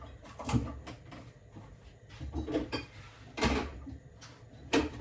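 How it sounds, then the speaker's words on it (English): An air fryer basket drawer slides and thunks shut at close range, making a few short, clattering knocks and scrapes in an otherwise quiet kitchen. "I'm just going to pop this into the air fryer and toast it up"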